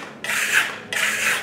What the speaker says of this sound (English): I have finished burnishing the wall and it now feels all very smooth.